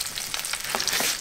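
Close, lively sizzling of kupaty sausages and chicken thigh fillet frying in a pan in a taiga cabin, with crackling pops and spits of oil rising and falling throughout.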